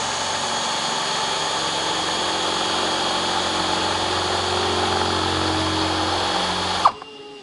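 A power drill runs in reverse through boat gel coat continuously at a steady pitch for several seconds, close and loud, then stops abruptly.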